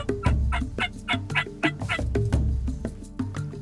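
Wild turkeys gobbling repeatedly in rapid bursts on a levee, several birds calling over one another at moderate distance, with no talk.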